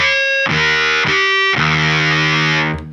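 Loud distorted electric guitar riff, sustained chords broken by several deliberate slides between positions, ringing steadily for about three seconds before fading at the end.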